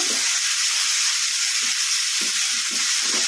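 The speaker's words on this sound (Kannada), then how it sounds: "ಮೆಂತ್ಯ ಸೊಪ್ಪು ಚೆನ್ನಾಗಿ ಎಣ್ಣೆಗೆ ಫ್ರೈ ಆಗಬೇಕು" Fenugreek leaves frying in oil for a methi and tomato chutney, a steady close sizzle with soft stirring scrapes now and then, no voices.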